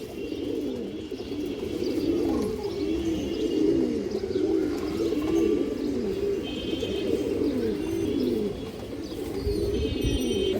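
A loft of fancy pigeons, including old-line breeds, coos continuously in overlapping, rhythmic throaty rolls, close and fairly loud with faint chirps behind.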